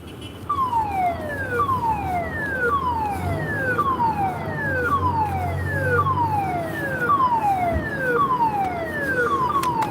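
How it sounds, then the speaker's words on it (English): A lifeboat station's loud wailing assembly siren sweeps repeatedly in falling tones, steady and continuous, sounding close with a low rumble underneath. "The assembly siren is about to sound,"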